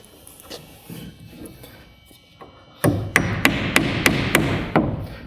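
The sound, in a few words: hammering 8-penny nails to tack wall sheathing in place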